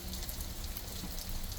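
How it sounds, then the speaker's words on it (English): Steady rain falls over a garden of tomatoes and peppers, a dense, even patter of drops close by with no talking. "it's actually raining now"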